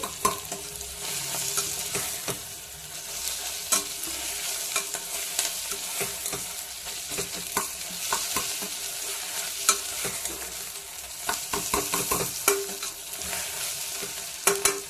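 Potatoes frying in a pan for a potato curry, a close crackling sizzle with frequent sharp scrapes and knocks from stirring, with no voices.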